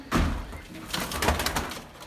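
Pigeons coo softly nearby in an attic loft coop, low throaty murmurs, with faint rustling and shuffling around them.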